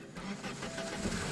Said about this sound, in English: The engine sound just started.